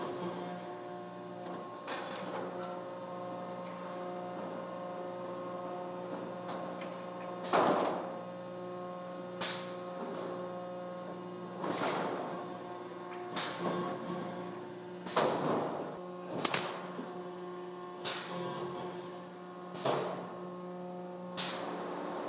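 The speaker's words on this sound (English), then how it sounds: "now it's rolling down to the hydraulic press, which does the rest of the stepping part." Metal roofing panels feeding along a factory roll-forming line into a hydraulic press, with a constant machine hum under repeated sharp metallic clanks and thumps at irregular intervals a few seconds apart.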